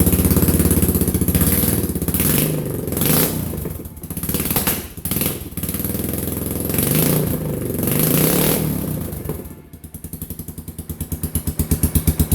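A Yamaha Kodiak 450 ATV engine is revved with light throttle, rising and falling in several blips up close before settling back into a steady rapid idle.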